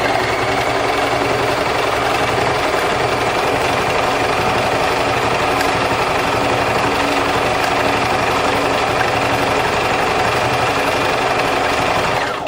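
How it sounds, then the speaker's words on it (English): An embroidery sewing machine stitches into lace, giving a steady, rapid mechanical whirr and rattle. The sound is close and constant, with no pauses. "I'm just going to encroach a little bit into here with the needle and the machine embroidery."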